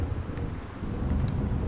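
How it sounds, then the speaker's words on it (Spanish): Steady rain falls outside in the video game Gone Home, a dense, even hiss with low rumble that holds at the same loudness through the short clip, with no voices. "sigue lloviendo fuera"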